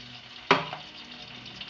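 Ginger garlic paste stirred into hot oil for restaurant-style biryani, giving one sharp sizzling burst as it hits the pan that quickly settles into a soft, steady frying hiss.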